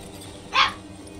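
A single short dog bark from the Rise of the Tomb Raider video game, brief and mid-distance over a low steady background.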